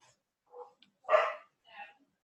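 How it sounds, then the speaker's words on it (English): A dog barks three times in short, separate bursts, the middle bark loudest and the others softer, with no other sound in between. "And the dog just is not happy today."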